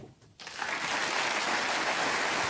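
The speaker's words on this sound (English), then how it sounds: "Applause for frame ball." Snooker crowd at the German Masters semi-final breaks into applause for a frame ball, swelling quickly from a quiet hall into steady, dense clapping that holds loud to the end.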